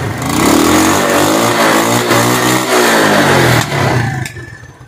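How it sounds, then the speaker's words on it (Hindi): A motorcycle engine, just repaired in a village workshop, runs close by and loud, revving up and falling back in steady surges before easing off at the end. "बाकी देखने स्टार्ट भी होंदी है बाइक या नहीं।"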